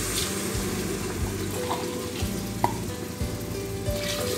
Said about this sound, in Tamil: இப்போ தேங்காய் பால் விட்டுக்கலாம்